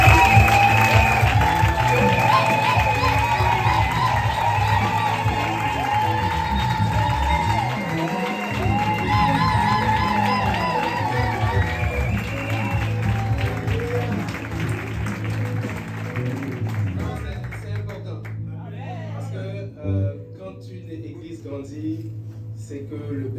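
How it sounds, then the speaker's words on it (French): A church congregation applauds and cheers for the pastor during a Sunday service, a loud sustained wave of clapping with whoops and crowd voices that carries on for about twenty seconds before thinning out near the end. "je tiens à ce qu'on puisse acclamer le pasteur."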